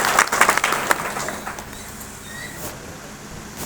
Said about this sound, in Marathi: टाळ्या वाजवा, स्वागत करा